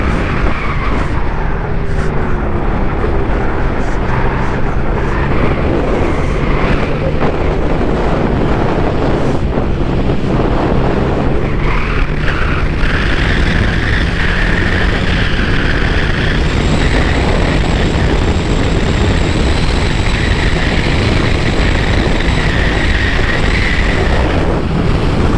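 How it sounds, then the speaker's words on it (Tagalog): A Yamaha Xmax V3 scooter accelerates during its break-in ride, the engine droning steadily under heavy wind buffeting on the microphone, its pitch climbing as speed builds. "Wala lang ko arangkada na ng motor."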